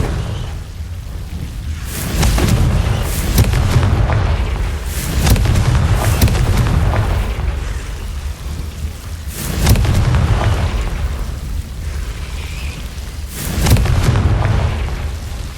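Confringo spell blasts in the video game Hogwarts Legacy, four heavy booming explosions spaced a few seconds apart, each a loud rumbling burst that fades before the next, with no talking.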